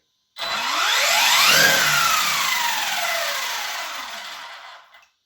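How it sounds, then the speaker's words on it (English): A ready-to-run RC car motor whines up at medium speed, then its pitch slides steadily downward as the spinning wheels decelerate, loud and close before cutting off near the end. "So go to sort of medium speed, just keep an eye on those wheels decelerating."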